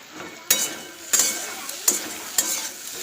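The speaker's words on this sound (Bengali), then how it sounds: "এই দেখো আলু, শিম আর একটু মূলো ছিল, ভাজা করছি।" Potato, bean and radish sizzle in a frying pan while a spatula stirs them. Four sharp scrapes and clinks break through the steady close-up frying hiss.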